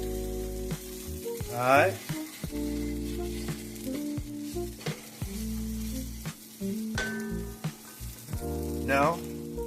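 Onion frying in a pot for a curry chickpea stew, a steady sizzle running under music, with a brief spoken word near the start.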